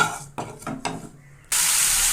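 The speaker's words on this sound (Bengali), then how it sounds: "তেলটা গরম হয়ে গেছে, এতে আমি একটু সর্ষে ফোড়ন দিয়ে দিলাম।" Mustard seeds tempering in hot oil for mango chutney: a few short bursts of stirring and crackle, then a loud, steady sizzle that takes over near the end, with no voices.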